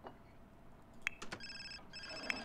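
An in-game telephone in The Sims 4 rings with two short electronic trilling bursts, moderately loud over a soft background hum and a few small clicks.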